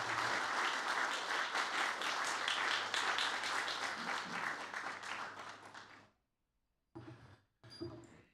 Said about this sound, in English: give Sir Peter a round of applause